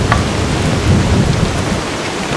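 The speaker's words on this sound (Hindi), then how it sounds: "लगातार होती बारिश ने मार्ग को काफी खतरनाक बना दिया है।" Heavy, steady rain falls on a mountain trail on the route to Kedarnath, a dense unbroken hiss with low rumbling underneath, loud and close throughout with no voices.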